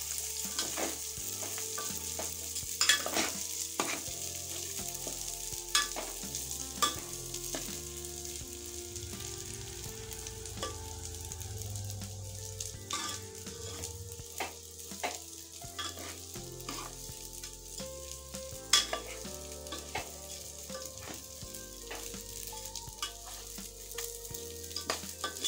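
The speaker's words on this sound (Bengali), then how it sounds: "ভালো করে নেড়ে নিচ্ছি।" Rice being stirred as it fries in ghee for basanti pulao, a continuous soft sizzle under repeated scraping and clinking of a spoon against the pot, close and steady throughout.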